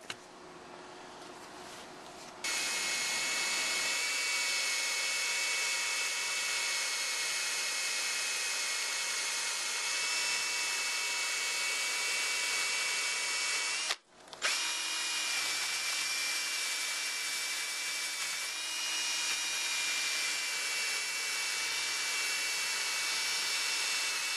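A drill spinning a polishing pad from a 3M headlight restoration kit buffs a knife blade, giving a steady close whine that starts after a couple of seconds, cuts out briefly midway, then resumes and runs on.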